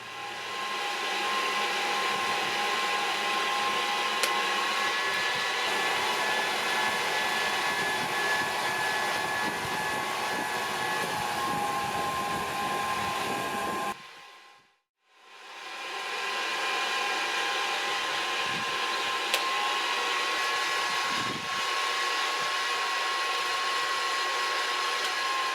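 A hot air popcorn popper roasting coffee beans gives a loud, steady close whoosh of fan and heater, cutting out briefly for a second midway before spinning back up to the same continuous roar.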